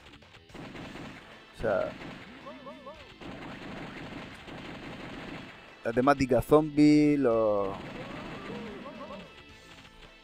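Gunfire pops and crashes from the Sega Saturn version of the video game The House of the Dead sound under someone speaking, with a burst of louder pistol shots partway through.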